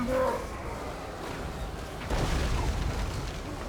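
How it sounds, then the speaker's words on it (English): Hell Cannon shots from the Warhammer battle game, with deep booming explosions and a rumbling blast midway through, layered over a noisy, chaotic battlefield. "The Hell Cannon getting some nice shots on these hammers and longbeards, though."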